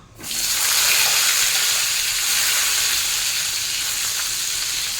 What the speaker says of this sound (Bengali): আমটা একটু ভেজে নেব